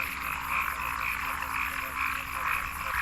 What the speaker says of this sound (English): The cross-barred tree frog is only found in the Grand Canyon.